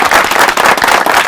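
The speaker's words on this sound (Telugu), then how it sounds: "ఒకసారి గట్టిగా చప్పట్లు కొట్టేయండి రా" A studio audience at a Telugu comedy show claps loudly together, a dense, close burst of rapid applause lasting just over a second.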